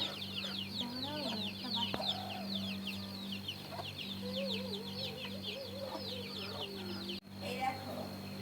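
Hens clucking and chicks peeping nearby, a busy overlapping chorus of short calls with a steady low hum underneath.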